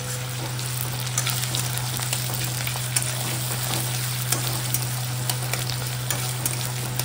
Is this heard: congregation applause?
no